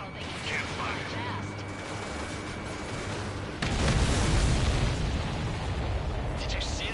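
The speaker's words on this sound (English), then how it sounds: "Did you see that explosion?" A supply ship explodes in the Ace Combat 7 video game, a sudden loud broadband blast that swells midway and rumbles on over continuous engine drone, with faint talk beneath.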